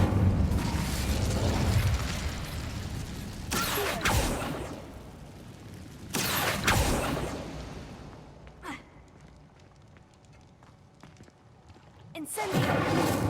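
Incendio fire spell cast in Hogwarts Legacy, rendered as a few bursts of roaring flame and whooshing pops that swell and fade across the clip, with a voice and breathy gasps mixed in.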